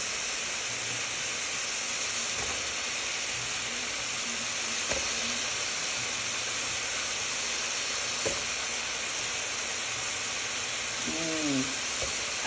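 Potatoes sizzle and hiss steadily in a hot pan as they are stir-fried for a homemade alphabet soup, with occasional faint clinks of stirring.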